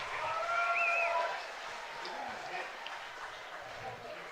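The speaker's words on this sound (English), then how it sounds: "Listen to this crowd." A baseball crowd at an IBL game between the Toronto Maple Leafs and London Majors cheers a bunt play, a loud swell of voices and whistles that fades into a steadier crowd murmur.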